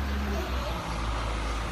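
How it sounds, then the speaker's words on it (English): A truck passing on a nearby road, a steady low engine rumble and broadband road noise heard from indoors, with a voice talking over it. "Oh, you see the truck?"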